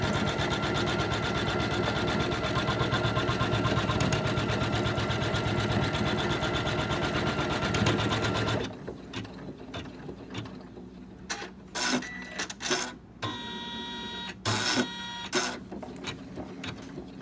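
A sewing machine stitches a double wedding ring quilt in a fast, steady mechanical whir for about eight seconds, then stops, followed by scattered clicks and short motor bursts.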